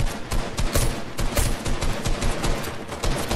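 Rapid Fortnite gunfire rattles in dense, loud bursts of overlapping shots, a sustained close fusillade throughout.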